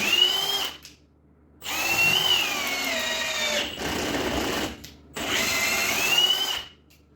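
A cordless drill boring holes, tested among Parkside, Ingco, DeWalt and Milwaukee models, runs in three loud bursts with whining pitch that bends under load, separated by short silent pauses.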